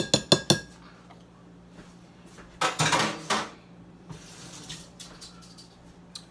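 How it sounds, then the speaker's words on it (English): A cocktail strained off its ice into a glass, opening with a few sharp clinks of ice and metal, then a short bright splash of pouring liquid, followed by lighter scattered taps. "Strainer on, glass, strain."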